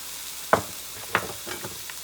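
Spinach with garlic, chili and coriander-cumin powder stirred in a pan for spicy palak bhaaji, with two sharp clatters of the spoon against the pan and a soft sizzle between them.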